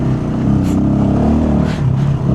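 A car on a mountain road in Kashmir, heard from close by: a steady low engine rumble that swells and fades as the vehicle goes past, with faint clatter and wind.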